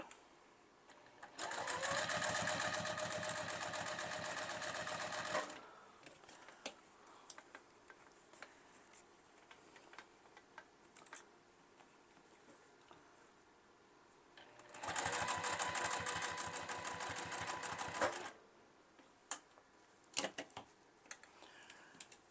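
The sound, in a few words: sewing machine stitching around a fabric bowl cozy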